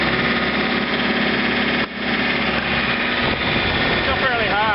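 A John Deere 2720 compact tractor with a 47-inch snowblower runs at raised throttle, a loud steady engine drone with a brief dip partway through and a rising whine near the end.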